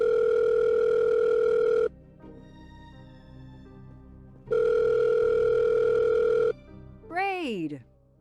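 A steady electronic telephone tone in the Agatha Christie Murder on the Orient Express video game sounds in two long bursts separated by a pause, loud and clear, followed by a brief warbling, swooping electronic sound.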